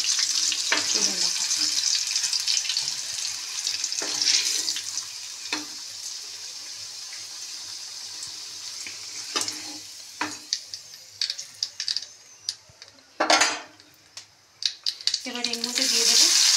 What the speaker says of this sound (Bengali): চলুন আলুগুলো ভেজে নিই।